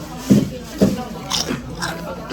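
Bites into crispy fried chicken at a long-running neighborhood chicken and beer pub, two sharp crunchy bites followed by softer chewing, close up, with people talking around the table.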